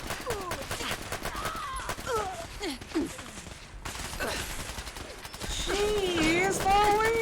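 Raiders in Fallout 4 lay down bursts of gunfire, rapid repeated shots with whistling, warbling game effects and a voice talking over them, growing louder and denser toward the end.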